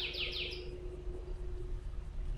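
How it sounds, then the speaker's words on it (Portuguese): Birds singing in the video game GTA 5: a few quick chirps early on over a steady low ambient hum and a faint tone, then only the background drone continues. "que saudade que eu tava de ouvir esses passarinhos cantando"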